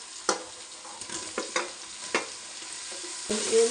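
Chicken biryani masala of onion, garlic, tomato, coriander and mint fries in a pan, a steady sizzle punctuated by several sharp spatula taps and scrapes, close up with no talking.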